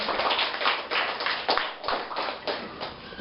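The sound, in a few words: applause for a debate team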